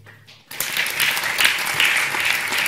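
An audience at the Agile Grenoble 2018 conference applauds for Damien, with steady, dense clapping that starts abruptly and continues loudly without a break.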